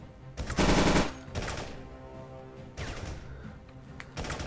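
Bursts of automatic gunfire in a VR shooter game, Battle X, rattle in two or three short volleys with quieter game sounds between them.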